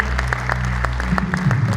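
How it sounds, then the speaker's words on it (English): An audience at a fire and security bravery awards ceremony claps steadily, a dense spatter of applause that continues for a couple of seconds. "A big round of applause for him."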